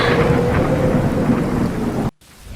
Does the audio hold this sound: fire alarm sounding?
no